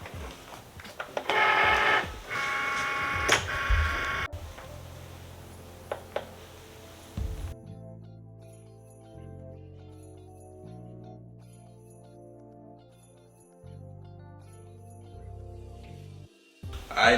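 Cricut cutting machine cutting vinyl for a Christmas ornament, with handling clatter at first, then a quiet sequence of stepped motor whirs and buzzes as the carriage moves in short runs, close and without voices.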